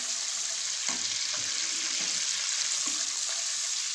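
Tarka for sarson ka saag sizzles steadily in a pan, a continuous bright frying hiss with a few soft stirring knocks, close and fairly loud with no talk.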